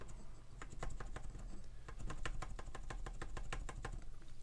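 Typing on a mechanical keyboard built from a 96-key TaoBao kit, including its 2U keycap, with a quick run of crisp, close clacks, pausing briefly before a steadier burst of evenly spaced keystrokes.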